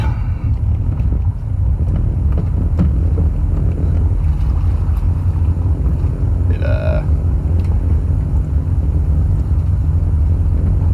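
Steady low engine drone and water rush of a boat moving along, with wind buffeting the microphone throughout and no talking.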